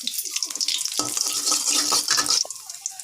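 Whole cumin and crushed whole garam masala frying in oil in a kadai, with a crackling sizzle under stirring and scraping, louder in the middle and easing toward the end, with no talking.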